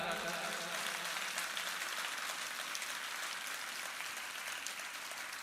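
An audience at a birthday celebration at Shantikunj, Haridwar claps without a break, a dense, even wash of applause that lasts throughout and fades a little toward the end.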